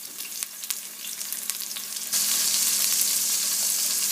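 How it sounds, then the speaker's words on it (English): Pork for pulled BBQ pork browns in a pan with a steady, close frying sizzle that jumps noticeably louder and brighter about halfway through, no voices over it. "then you want to put it in a pan like this and start to brown it a little bit"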